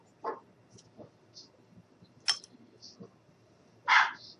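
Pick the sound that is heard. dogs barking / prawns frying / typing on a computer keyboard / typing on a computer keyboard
dogs barking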